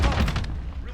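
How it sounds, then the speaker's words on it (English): A stun grenade detonates in Call of Duty Modern Warfare, a loud, close blast with a broad roar that fades over about a second, with faint voice or game sound under it. "Stun grenade."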